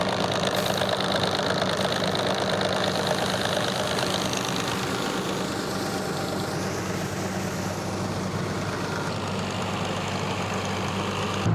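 A tractor engine runs steadily at idle, a low continuous rumble that stays even throughout, with no voices.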